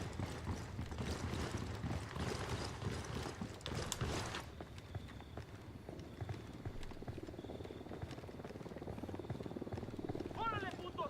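A helicopter in the Ghost Recon video game gives a thrumming rotor wash under busy game sounds and speech, loudest early and then fading, with gunfire and effects around it.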